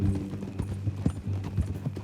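Horse hooves clip-clop in Red Dead Redemption 2, a steady uneven walking rhythm of dull thuds close up, with no talk.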